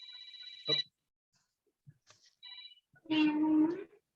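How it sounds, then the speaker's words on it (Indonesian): A telephone ringing indoors, two short electronic ring bursts separated by a pause, followed by a person beginning to speak close by. "Ada telepon, mama telepon."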